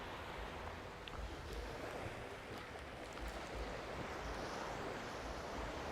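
Surf washing steadily onto a beach in the dark, a continuous loud roar of breaking waves with wind buffeting the microphone throughout.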